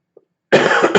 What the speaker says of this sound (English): Apologies for the coughing, guys.